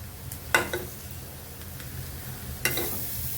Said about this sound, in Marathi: आता यामध्ये थोडं आलं लसूण पेस्टसुद्धा टाकणार आहे